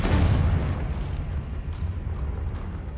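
A Confringo spell blast in Hogwarts Legacy: a loud, deep boom at the start that rolls into a rumbling roar, then slowly thins into a lingering low tail.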